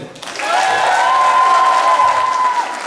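A parish day audience claps together, a dense, loud burst of applause that swells quickly, holds steady for a couple of seconds and then tapers off.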